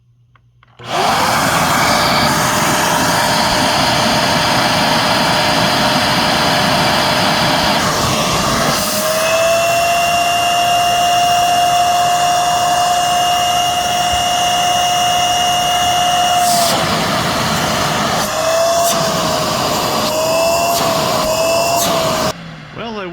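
A Shark CarpetXpert EX201 vacuum cleaner running during an airflow test, a loud continuous motor roar and whine whose pitch rises slightly midway and wavers near the end as the airflow changes, with talk partly under it.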